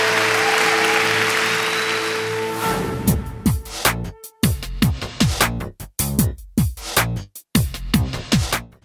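A crowd applauds loudly to welcome judge Ganesh onto the stage at a Deepawali special dance show, a broad wash of clapping over music for about three seconds before punchy rhythmic beats take over.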